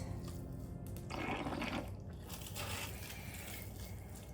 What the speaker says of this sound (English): Spray. There's a lot. Water the seeds.